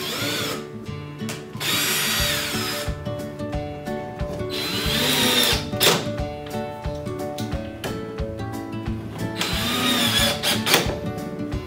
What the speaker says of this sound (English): So I just drilled a hole through there with the appropriate screw